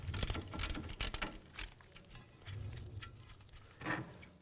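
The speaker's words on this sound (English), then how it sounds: "Looks like the bolt's going to stay in place, so we'll just go ahead and remove these nuts." Ratchet clicking as 18mm nuts are removed from the strut bolts on a 2008-2012 Ford Escape during front CV axle replacement, a fairly faint, close series of quick mechanical clicks in bursts.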